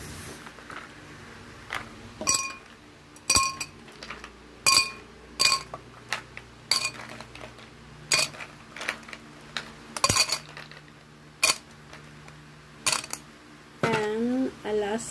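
Ice cubes for a corn-with-ice dessert clinking sharply against glass, a dozen or so bright knocks in an uneven rhythm, close and fairly loud, with brief voices in between.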